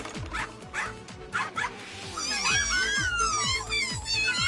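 A dog in a PS4 VR video game yips and barks in a quick series of short, bright calls, heard up close over a layered game soundtrack.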